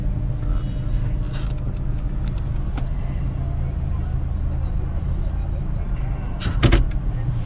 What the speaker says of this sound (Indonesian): Kita akan memarkir mobil dengan pantatnya terlebih dahulu, saudara.